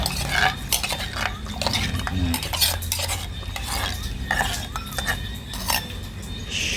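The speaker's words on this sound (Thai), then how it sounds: "แล้วก็คนคนคนมัน" A ladle stirs a homestyle bamboo shoot curry with mushrooms in a pot, making continuous scraping and sloshing strokes with frequent clinks against the metal, close and fairly loud throughout.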